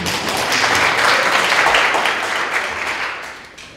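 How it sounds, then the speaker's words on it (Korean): An audience at an ICT forum talk in Korea gives a dense round of applause welcoming a speaker to the stage, steady and full for a few seconds before fading out. "큰 박수로 맞이해 주십시오."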